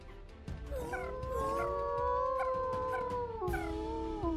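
Dire wolves in ARK: Survival Ascended howl together in a drawn-out, wavering chorus, several overlapping voices rising and falling across the whole stretch, loud and close with a steady game-world backdrop.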